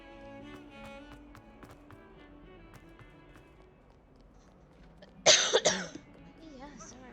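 A player coughs hard a few times near the mic during a Hogwarts Legacy session. The coughs come as a loud, brief cluster late on, over quiet game audio.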